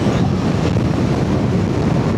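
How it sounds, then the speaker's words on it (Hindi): A steady, loud rush of wind buffets the microphone during a highway ride on a Himalayan 450 motorcycle, a continuous roar with no talking. "हवा चल रही है"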